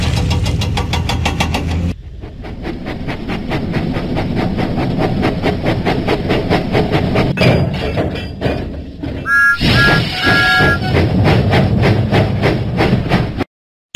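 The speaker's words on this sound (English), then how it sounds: "Thomas pumped his pistons and puffed out of the docks" A cartoon steam engine in a Thomas & Friends video game chugs loudly out of the docks. Rapid rhythmic puffs run throughout, with a whistle-like tone partway through, before it cuts off abruptly at the end.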